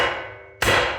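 A single sharp, loud hammer blow rings out against a steel control arm bracket on a 2011 Subaru Forester during a CV axle replacement, breaking a quieter stretch of shop ambience.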